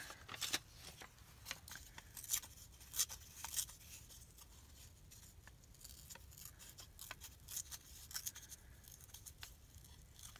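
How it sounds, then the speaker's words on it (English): Scissors cutting out a square of paper, faint scattered snips and rustles at an irregular pace over a quiet room background. "I'm just going to go ahead and cut out a square of this a little bit smaller"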